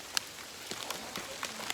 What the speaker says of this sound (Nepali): अब पानी पर्न सुरु भएछ